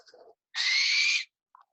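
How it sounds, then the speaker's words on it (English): A white barn owl gives a single loud, harsh screech lasting under a second, close and alone, after a few faint soft sounds and followed by a brief short call. "She's the one that should be called a screech owl with that sound."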